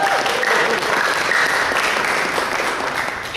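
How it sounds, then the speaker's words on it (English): An audience at a Toastmasters club debate breaks into steady applause and cheering, a dense wash of clapping that holds at an even, fairly loud level throughout with no speech over it. "Let's cheer for them."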